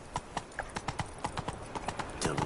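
Roach, the horse in The Witcher 3, trots along with steady, close clip-clopping hooves, a quick even rhythm of distinct hoof strikes throughout.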